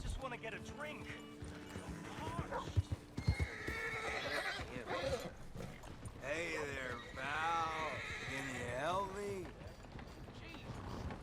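A horse in Red Dead Redemption 2 whinnies and snorts repeatedly near a freight station, with clip-clopping hooves and some thumps early on, mixed with game music and character voices talking.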